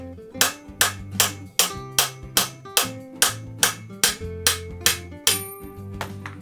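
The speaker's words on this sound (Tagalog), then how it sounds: "Ang kailangan mo lang is itap siya dahan-dahan hanggang sa lumabas siya ng kusa." A bicycle headset bearing cup is gently tapped out with a hammer: about fourteen evenly spaced, sharp metallic knocks, close and clear, each ringing briefly.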